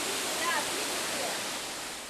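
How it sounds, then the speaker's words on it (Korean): Steady broadband rush of a waterfall of natural hot spring water pouring down, loud and continuous throughout with no breaks, filling the scene from close range. "시원하게 쏟아지는 폭포 소리에 마음까지 씻겨 내려가는 것 같습니다."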